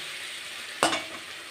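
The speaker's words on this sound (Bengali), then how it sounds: "তো আলুটা আগে আমি কষে দিই, তারপরে ফুলকপি দেবো" Potatoes get stirred in a hot pan for a Bengali fish curry with cauliflower, giving a sudden scraping sizzle that rises briefly over a quiet background hiss and then tapers off.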